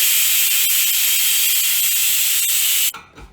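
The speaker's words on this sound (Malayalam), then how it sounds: "അഞ്ച് വിസിൽ കഴിഞ്ഞിട്ട് ഓഫാക്കിയിട്ട് വിസിൽ പോകുമ്പോൾ നമുക്ക് കുക്കർ തുറന്നു നോക്കാം" A pressure cooker holding green gram and rice porridge vents a loud, continuous rush of steam after its whistles, then cuts off abruptly near the end.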